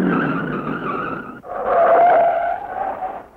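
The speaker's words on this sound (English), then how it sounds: "Elmo Langley blows an engine and slides sideways" A stock race car at the 1970 Motor Trend 500 at Riverside blows its engine and slides sideways, giving a harsh skidding rush followed by a sustained tire squeal, loud and alone.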